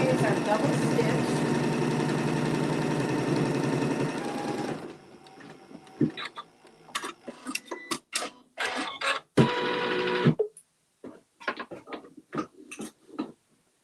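A sewing machine runs steadily for about five seconds, double stitching appliques onto a holiday topper, then stops; scattered clicks and handling noises follow, with a second short burst of stitching mid-way.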